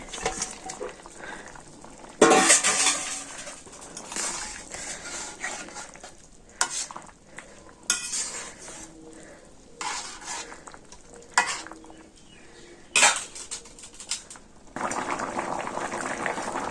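Fish sizzles and fries in a pan of hot oil at a village cooking fire, stirred now and then, with a steady crackling hiss and louder scraping bursts.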